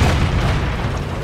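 A single deep, loud boom with a heavy low rumble as an enemy E100 heavy tank is destroyed by a shot in the World of Tanks video game, standing alone with no talk.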